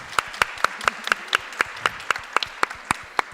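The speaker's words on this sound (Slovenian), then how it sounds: "Dajmo en aplavz." Audience applause at a style panel discussion during a Slovenian Cosmo conference, a steady run of sharp, evenly spaced claps, loud and close, with no talking over it.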